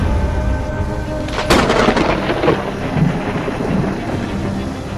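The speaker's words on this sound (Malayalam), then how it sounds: "മഴ തകർത്ത് പെയ്യുകയാണ്" Heavy monsoon rain pours steadily while a loud, close thunderclap cracks and rolls for several seconds before fading back into the constant downpour.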